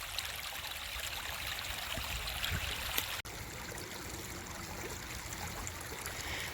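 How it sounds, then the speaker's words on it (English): A creek flowing, a steady close rushing and burbling wash of water throughout, with a single sharp click midway and no voices. "you watch the creek and it's an absolute place of peace"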